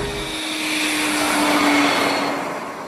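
A gas turbine car engine cruising at about 28,000 RPM gives a smooth, continuous jet-like whine with a steady tonal hum and broad airy rush, swelling slightly in the middle and holding close and even throughout.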